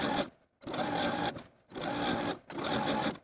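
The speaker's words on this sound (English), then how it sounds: "edge stitch close to this inner fold all the way across" A sewing machine edge stitching the hem of an apron, loud close mechanical whirring in three runs separated by short pauses.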